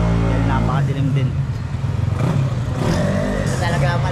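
A large motorcycle engine idling and revving nearby, a deep rumbling drone with throttle swells, heard while people talk over it.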